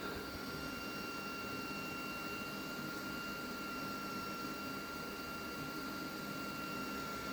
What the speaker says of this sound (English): So the printer is under self-detecting and it may take several minutes.